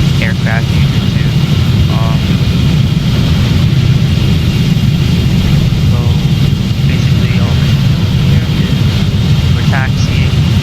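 Emirates Boeing 777 taxiing in a flight simulator game: steady loud engine drone and whine throughout, with faint chirps and a person talking over it.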